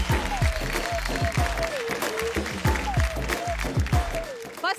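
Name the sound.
audience applauding themselves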